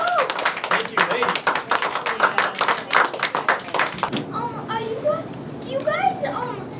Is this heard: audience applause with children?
yes